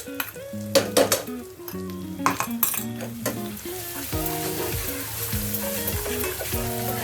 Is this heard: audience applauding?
no